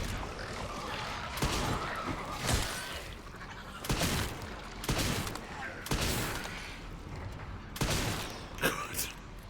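Video game gunfire from Requiem, heard as a series of sharp, separate shots spaced a second or two apart at moderate loudness. Scattered clatter and faint talk run between the shots.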